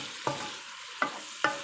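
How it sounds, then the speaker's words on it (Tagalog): Shrimp and tofu stir-fried with coriander leaves in a pan: a soft continuous sizzle broken by three sharp scraping stirs of the utensil, close and fairly quiet, with no talking. "hahaluin lang natin hanggang maluto yung dahon, coriander"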